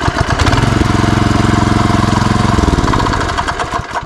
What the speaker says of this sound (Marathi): हाफ किकला ही मशीन चालू होते तुमची पेट्रोल इंजिन